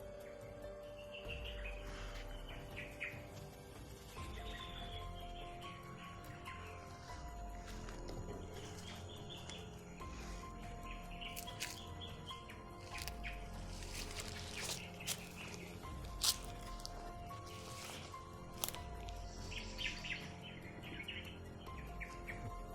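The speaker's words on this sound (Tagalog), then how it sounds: "Ibon yan o." Birds chirp and call repeatedly from a moderate distance over a steady outdoor hum, with faint insect-like buzzing and occasional clicks.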